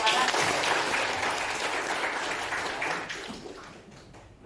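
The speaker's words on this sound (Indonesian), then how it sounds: "Beri aplaus untuk anak-anak." Applause for children at a junior high school (SMP Negeri 1) event: dense, steady clapping from a crowd, loud at first, then slowly tapering off over several seconds.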